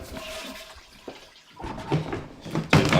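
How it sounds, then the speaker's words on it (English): A toilet flushes in a sitcom scene, a brief rushing swirl of water rising toward the end after quieter room noise and a few soft knocks. "I'm flushing my stash."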